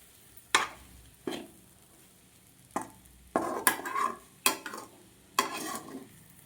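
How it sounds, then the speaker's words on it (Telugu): Spatula stirring spices into an egg fry in a pan, a series of sharp scraping strokes spaced irregularly over a faint sizzle, close and fairly quiet with no talking. "అంతే, ఒకసారి అంతా కలుపుకోవాలి."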